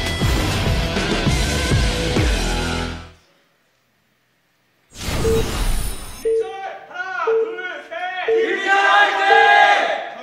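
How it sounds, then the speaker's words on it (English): A StarCraft crowd at an SSL Classic match between Soulkey and Rain lets out a loud cheer that cuts to silence, then breaks into a rhythmic, sung group chant of repeated calls that swells louder near the end. "A somewhat lopsided cheer from the crowd"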